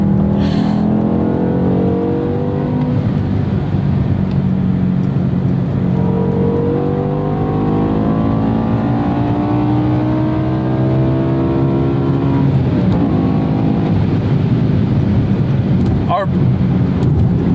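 A 2007 BMW M5 E60 with its V10 engine revs repeatedly, the pitch sweeping up and down in long rising and falling pulls, loud and close, with the engine sound dominating throughout.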